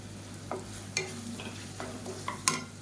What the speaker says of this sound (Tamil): தக்காளி இந்தளவுக்கு நல்லா வதங்கணும்